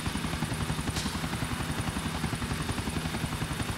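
Helicopter in the video game GTA IV, its rotor thumping in a steady fast rhythm with a constant engine whine, loud and close throughout with no voices.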